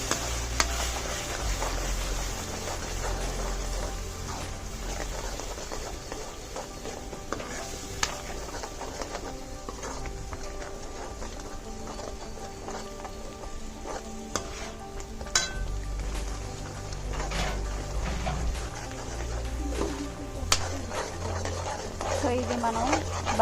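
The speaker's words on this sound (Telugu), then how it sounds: "ఈవెన్గా మిక్స్ చేసుకోవాలి." Stuffed brinjal curry with masala paste being stirred in a pan, a steady sizzle under scattered scraping and spoon clinks throughout, with someone speaking at times.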